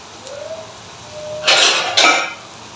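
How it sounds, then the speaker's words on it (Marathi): Oil poured into a hot kadhai hisses and sizzles in two loud bursts near the end, while a fasting dish for Ashadhi Ekadashi is being cooked. A faint whistle-like tone is heard earlier. "थोडंसं कढईत तेल सोडायचं."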